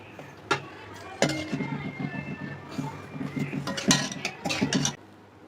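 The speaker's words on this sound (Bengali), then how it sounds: "ঢাকনা আমি খুলে নিচ্ছি।" A lid lifted off a cooking pot of chicken rezala, with a few metallic clinks and scrapes of metal on metal up close, while someone talks over the cooking sounds.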